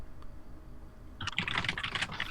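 Fast typing on a computer keyboard: after a second of quiet room tone, dense, rapid clacking of keys starts up close and continues steadily to the end.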